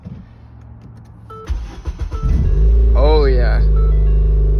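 Ford Fiesta ST engine cold-starting with new motor mounts: a brief cranking whine, then the engine catches and settles into a loud, deep, close idle with a rising rev, while someone speaks briefly over it.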